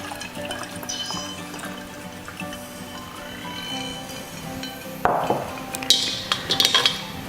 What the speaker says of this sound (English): And then I'm going to sieve this into my jar.